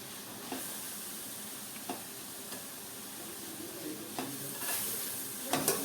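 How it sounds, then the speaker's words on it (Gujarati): Grated carrots sauté in a pan over a low flame, with a soft steady sizzle under scattered light scrapes and taps of stirring, quiet and close. "ધીમા ગેસ પર બેથી ત્રણ મિનિટ ગાજરને આ રીતે સાંતળી લેવાના છે"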